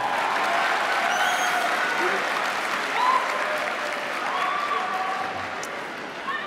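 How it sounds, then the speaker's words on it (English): A high school graduation audience applauds at the 2023 Phoenix ceremony, with sustained, loud clapping filling the hall and scattered cheers and whoops rising above it. "Let's give them all a great round of applause."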